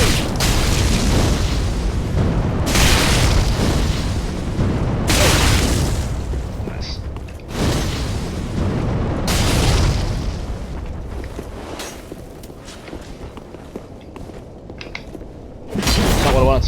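Fire orb pyromancy from Dark Souls 3 bursting in repeated loud booms, several blasts spread across the stretch, with speech and game noise running between them.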